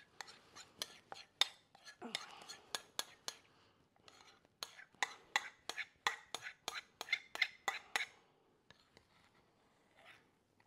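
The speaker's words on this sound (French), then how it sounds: "notre beurre fondu, d'accord, qu'on va venir finir de récupérer avec notre petite cuillère qu'on avait réservée" A small spoon scrapes and taps against a bowl to gather the last melted butter, sharp close clinks in quick irregular bursts with soft whispery pauses between them.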